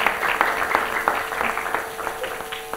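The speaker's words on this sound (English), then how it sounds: "Come on, clap." Scattered clapping from a lecture audience at IIT Bombay, moderately loud and steady with irregular individual claps across the whole stretch, no talk over it.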